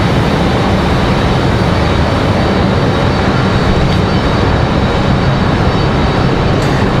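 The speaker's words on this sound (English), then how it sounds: "Got that Delta from Atlanta coming down the hill here" A Delta airliner from Atlanta descends to land at Raleigh-Durham International Airport. Its engines make a loud, continuous broadband roar that stays steady throughout, with no voices over it.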